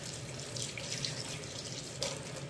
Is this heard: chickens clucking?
no